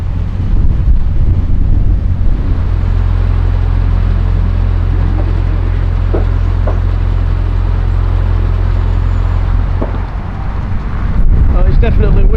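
Strong wind buffets the microphone in a constant low roar over a boat engine's steady hum, with a brief gust near the end.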